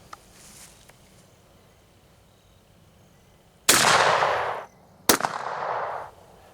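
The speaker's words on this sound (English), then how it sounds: "So here we go at 10 yards." Two loud shots from a Stevens 22/410 combination gun firing 3-inch .410 shotgun shells at 10 yards, each a sharp blast with a long decaying tail, the second coming about a second and a half after the first.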